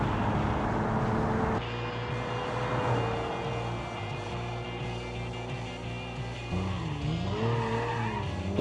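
Car drifting down Lombard Street in West Coast, USA in BeamNG.drive, tires squealing in long wavering skids over a steady engine drone, with a sharper burst of squeal near the end.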